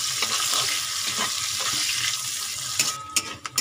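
Onions frying with whole spices in a pan for a raw jackfruit and chicken curry give a steady, close sizzle with scraping stirs, and a few sharper clinks of utensils near the end.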